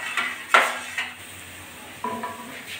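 Spices tempering in mustard oil for lentil dal sputter in short bursts, mixed with a few metal pan and spoon knocks and one sharp clatter early. The sounds come in separate bursts against a quiet background.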